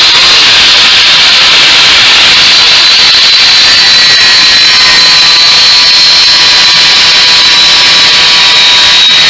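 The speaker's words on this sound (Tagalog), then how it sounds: "Ayan, grinder nga." Angle grinder cutting into tubular metal during a DIY job rounding off a tube end, a loud, steady high-pitched whine and grinding hiss running unbroken throughout with no talk.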